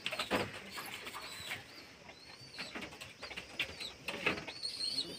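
Kalanga pigeons kept at a home loft give soft, low cooing and rustling calls at close range, with a few brief flutters and chirps over quiet background.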